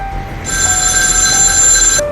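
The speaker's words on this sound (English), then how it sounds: "That's when the phone rang." A landline telephone rings once with a bright, continuous electronic trill lasting about a second and a half, loud and close in a quiet room.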